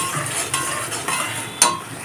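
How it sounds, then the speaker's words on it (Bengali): Poppy seed paste being stirred in a wok (kadai) after frying cumin, for a fish curry; soft scraping and stirring with a brief sharp clink of utensil on metal near the end, no talk. "পোস্তটাকে কড়াইয়ের মধ্যে হালকা নাড়াচাড়া করে নেব।"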